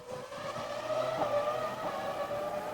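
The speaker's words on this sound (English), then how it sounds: "we'll have both Ferraris in action at the same time here as Barrichello goes on the clock" Formula One Ferrari race cars at the 2001 Monaco Grand Prix free practice, a sustained high-revving engine whine with shifting pitch, loud and steady with a distant second engine.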